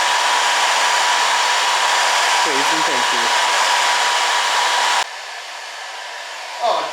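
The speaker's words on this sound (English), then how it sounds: "I'm using her hairdryer to put graphics on my motorcycle." A hair dryer blows with a loud, steady roaring whoosh while applying graphics to a Kawasaki motorcycle, then cuts to a lower setting near the end; someone speaks briefly over it.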